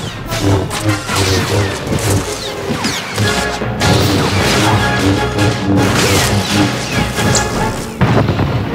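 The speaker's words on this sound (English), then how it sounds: "From a distance, the trooper hits Iron Fist with a cryo grenade." A cryo grenade hits the boss Iron Fist during a Star Wars: The Old Republic battle, amid a dense, loud, continuous barrage of crashes, booms and impacts that barely lets up, with no talk.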